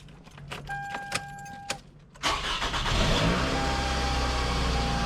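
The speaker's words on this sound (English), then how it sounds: "Okay, so I'm going to start up the vehicle." Keys jingle and rattle briefly, then a 2007 Toyota Camry engine cranks and catches, settling into a steady idle that runs to the end.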